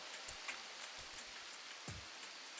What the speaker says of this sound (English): Look at this RTX rain, dude.